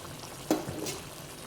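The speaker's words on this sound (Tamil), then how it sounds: "சிக்கன் மூழ்கிற அளவு தண்ணி போட்டுட்டு நல்லா வேக விட்டுக்குங்க." Chicken simmering in water in a covered pot on the stove for a mint chicken dish: a soft, steady bubbling hiss with one brief clunk near the start, like a lid settling.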